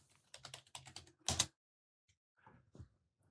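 Quiet typing on a computer keyboard, a short run of close soft key clicks followed by a couple of isolated taps after a pause.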